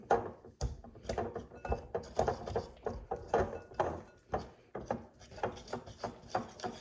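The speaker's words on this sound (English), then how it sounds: "Stir it really good, get all of the flour mixed in." Thick sourdough starter stirred with flour in a bowl, a close rhythmic series of sticky scraping strokes repeating steadily, with no talk.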